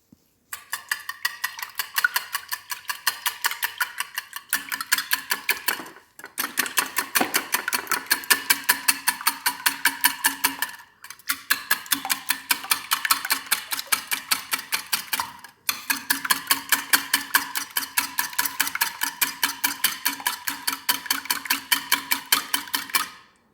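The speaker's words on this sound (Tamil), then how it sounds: "எல்லாத்தையும் போட்டு நல்ல வடிவாக நாங்கள் அடிச்செடுக்க வேணும்" Eggs with salt and turmeric are beaten for a spring onion omelette, a fast, steady rhythm of utensil ticks against a bowl that runs in four long bursts with brief pauses between them.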